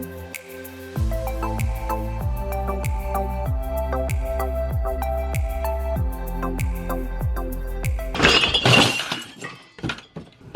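Glass breaks in a home during a decluttering session: a sudden crash and scatter of shards with brief tinkling near the end, following a steady rhythmic background sound and no talking.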